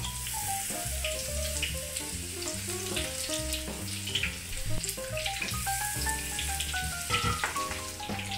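Battered broccoli tempura deep frying in hot oil gives a continuous crackling sizzle under background music.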